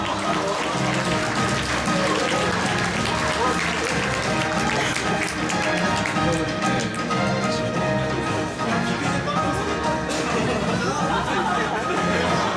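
An indoor audience at a smartphone launch event claps steadily for a prize winner, a dense sustained wash of applause mixed with crowd chatter and a host's voice over a PA.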